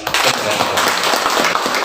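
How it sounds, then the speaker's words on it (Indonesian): An audience at a school visit claps loudly and continuously, a close, dense burst of applause that holds steady. "Tepuk tangan."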